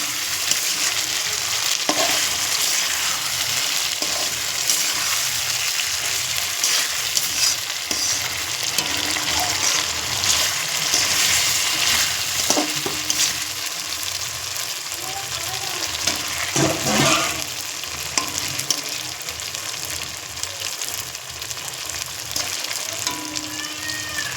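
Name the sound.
chicken kosha being stir-fried in oil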